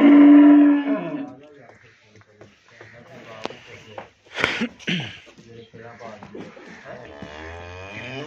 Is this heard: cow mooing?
yes